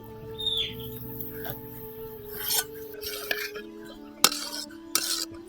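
Rice stirred in a pot for a Rayalaseema ragi sangati and naatu chicken curry, then covered with a lid: scattered scraping and metallic clinks, with a sharp clank near the end, over steady background hum and a few faint bird chirps.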